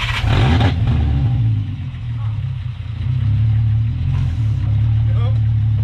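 A Jetta car engine revving loudly close by, a deep pulsing drone that swells, dips briefly, then climbs again, with a voice speaking over it.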